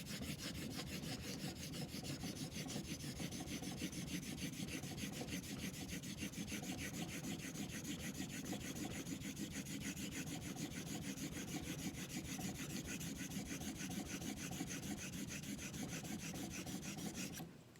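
Straight razor, a Filarmonica 14, stroked steadily along a hone while setting the bevel, giving a continuous close rasping scrape that runs evenly for the whole stretch without pause or voices.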